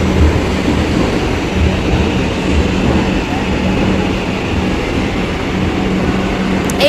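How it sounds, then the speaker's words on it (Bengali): A metro train arrives at the platform with a loud, steady rumble that fills the whole stretch and never breaks, and faint voices are mixed in underneath. "10-15 মিনিট পর মেট্রোটা এলো।"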